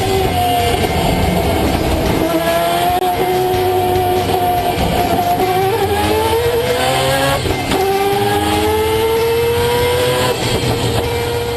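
A 10,500-horsepower race car roars loud and steady as it accelerates, its engine pitch sweeping upward through several rising gear-like climbs over a dense, continuous mechanical din, with no voices.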